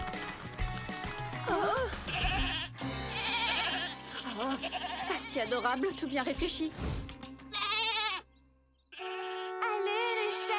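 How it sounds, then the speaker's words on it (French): Goats bleat repeatedly in an animated Barbie adventure scene, their wavering cries overlapping with a character speaking, music and a faint jingle, with a brief drop to near silence near the end. "Allez les chèvres!"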